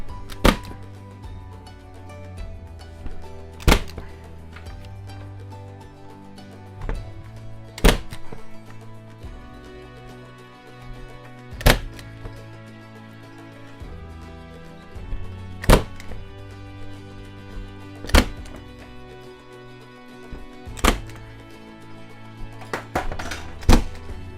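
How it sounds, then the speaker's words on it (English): A nail gun drives nails into a shiplap RV wall: sharp, loud isolated thunks roughly every few seconds, about nine shots over a steady low background hum, with no talking. "Make sure your nail gun's turned on."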